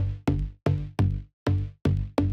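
Deep Plugs, an Alchemy synth preset run through OTT compression, plays six short plucked bass notes in a steady pattern, each punchy attack decaying quickly before the next.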